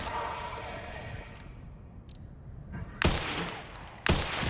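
Two sharp gunshot bursts from the Resident Evil Requiem video game crack out near the end, following a stretch of low rumbling ambience and faint background noise.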